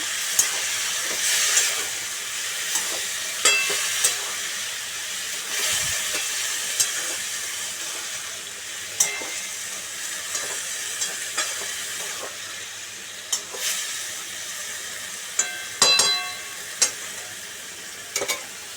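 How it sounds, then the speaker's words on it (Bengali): Spice paste for a Bengali cauliflower curry fries in a pan with a little added water, giving a continuous hissing sizzle broken by repeated sharp scrapes and taps of stirring, close and without talk. "একটু জল দিলাম মশলাটা কষানোর জন্য"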